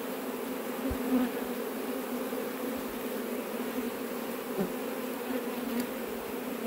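A dense swarm of bees under a wooden log gives off a continuous, close buzzing hum with a steady drone throughout and a couple of soft knocks.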